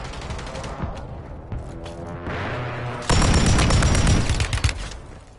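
Gunfire in Warzone 3 on Rebirth Island: after a few scattered shots and tonal game sounds, a loud, rapid stream of automatic fire kicks in and runs steadily for the last couple of seconds, close and sharp.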